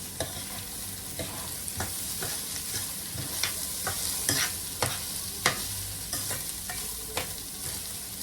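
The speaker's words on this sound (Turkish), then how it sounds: "Ben de bunu sade bir şekilde kavurayım." Food being sautéed plainly in a pan with black pepper and salt: a steady low sizzle with repeated sharp clinks and scrapes of a utensil stirring, close and moderately loud, with no talking.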